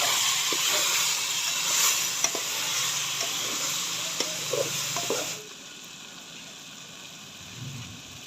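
Okra curry (bhindi salan) being stirred in a pot after lemon juice is added, a loud continuous sizzling hiss with scraping spoon strokes, dropping sharply to a quieter simmer about two-thirds through.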